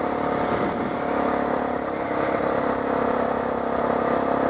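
A motorcycle cruises steadily, its engine holding a continuous mid-pitched drone with slight rises in revs, close and loud with no one talking.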